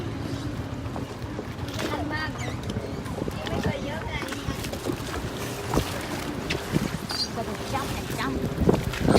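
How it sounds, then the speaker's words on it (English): Speedboat at a port near Sattahip, its engine and water wash running steadily under strong wind noise, with people talking nearby. "there's our speedboat"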